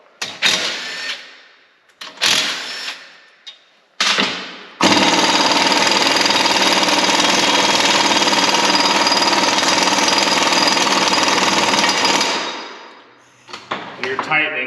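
Impact wrench on a Yukon 14-bolt 40-spline front axle build, a few short bursts followed by a long, loud continuous hammering run of about seven seconds that winds down, then light clatter.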